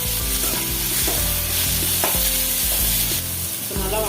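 Ginger, garlic, cinnamon and clove paste frying in a pan for chicken curry, giving a loud, continuous close sizzle with stirring scrapes throughout and a low steady hum underneath, without speech.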